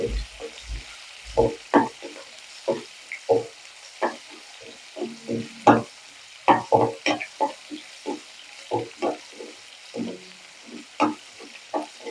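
Onion, garlic and chilli frying in a pan, heard as a faint sizzle under frequent clinking, scraping stirs with an uneven rhythm, close and fairly loud.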